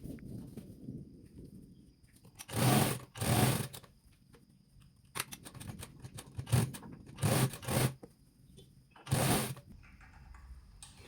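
Short bursts of a sewing machine top-stitching the shoulders of a sharara suit kurti, several separate runs starting and stopping with quieter handling in between.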